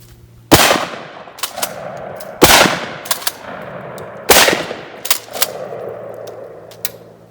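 Three heavy 10 gauge shotgun blasts firing 2 3/4 inch 00 buckshot shells at an outdoor range, each a sharp loud boom with a trailing echo, spaced about two seconds apart, with clicks and handling noises between shots.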